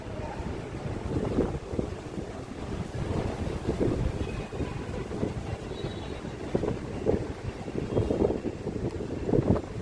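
Strong wind blusters across the microphone in low, rumbling gusts, steady and loud, with faint water or boat sounds beneath.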